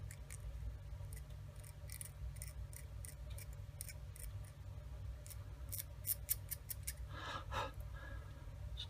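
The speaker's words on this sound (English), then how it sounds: "we're gonna switch to an X-Acto because the blade profile is a lot narrower, and this blade is very sharp" Sharp X-Acto hobby knife snipping and slicing plastic parts from an Italeri 1/35 Leopard 2 tank model kit, a run of quick, close, crisp cuts in steady bursts over a low background hum.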